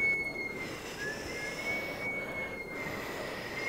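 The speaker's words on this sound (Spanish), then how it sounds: "El viento sopló tanto y tanto." Wind blows in a steady, whooshing rush for about four seconds, carrying a faint high whistle on top. It stands alone with no voices, as a sound effect in a children's story about a dream in a forest.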